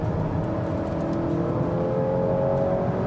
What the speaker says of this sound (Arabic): حبيت صوت محرك الأكورد لما تحاول تتسارع بالسيارة أكثر من محرك الكامري